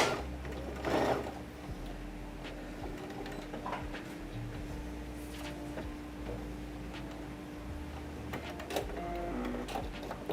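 Sewing machine running steadily while stitching the side seams of a slip dress or nightie, a fairly faint mechanical hum with short bursts and pauses, close by, with no talking over it.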